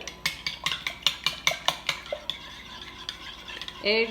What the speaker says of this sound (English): Okay, then we're gonna mix that together.